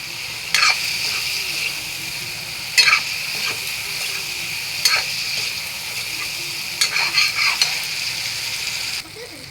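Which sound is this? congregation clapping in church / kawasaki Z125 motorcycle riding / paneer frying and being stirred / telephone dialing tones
paneer frying and being stirred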